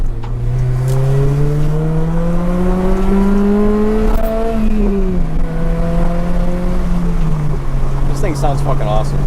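An Acura RSX with a K24 engine and aftermarket exhaust revs up and down through the gears, a loud, close, droning tone that rises and falls, with crackling pops near the end and people talking over it.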